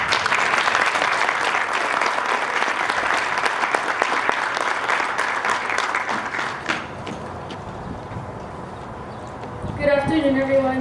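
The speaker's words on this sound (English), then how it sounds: "Join me in giving a round of applause to Miss Brianna Castro." Loud applause from a crowd at a graduation ceremony fills most of the clip, then fades out, and a voice starts speaking near the end.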